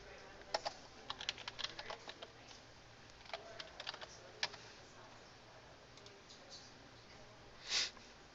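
Keys clatter on a computer keyboard as an address is typed, soft irregular bursts of clicks close by, ending with one brief louder sound, all quiet with no talking.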